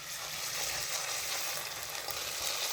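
Ginger garlic paste frying in a pan with green chillies for a fish curry, a steady close sizzle with a crackling hiss and no talk.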